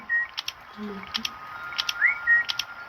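Short electronic whistle tones and bright chirps repeat in quick bursts, with a few clicky beeps between them, crisp and close.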